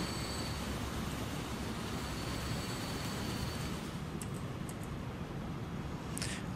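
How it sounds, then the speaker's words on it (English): Trains rolling along rails in the transport game Transport Fever 2, a steady, faint wash of wheel rumble and track noise with a thin high squeal early on and a few light clicks near the end. "This is all one train right here."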